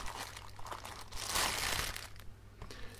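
A small plastic bag holding a GoPro timelapse panning timer crinkles and rustles during unboxing, with soft scattered crackles swelling into a denser rustle in the middle before trailing off, close and fairly quiet.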